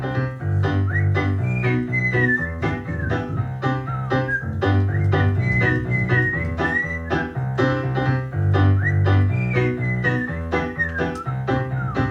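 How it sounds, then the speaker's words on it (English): A bright, lively melody is whistled over a bouncy piano accompaniment, the whistled notes sliding and trilling continuously throughout, loud and close. "a whistling tune"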